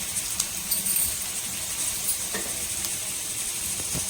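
Onion-based fish curry masala sautéing in a pan for a Sunday fish fry, a soft steady sizzle and hiss with faint stirring scrapes, outdoors in the evening, with no talking.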